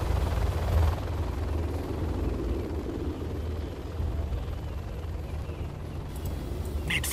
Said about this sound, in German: die Helikopter sind ziemlich überpowered